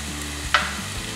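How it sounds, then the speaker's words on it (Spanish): Ground beef frying in a pan for picadillo, a close steady sizzle with a single quick scrape of a stirring spoon midway through the brief moment. "ahora agregamos la carne. Movemos un poquito"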